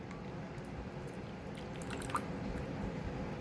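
Water poured into a cup of white glue to thin it for a paper lantern craft, a soft steady trickle and liquid squish running close and quiet with no talking.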